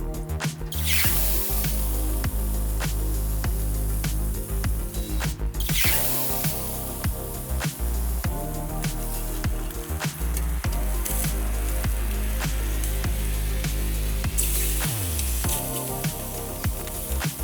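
Oil sizzling on a grill over super high heat while squid cooks, Filipino-style barbecue; a steady loud hiss with repeated sharp spitting bursts and crackles throughout, no one talking.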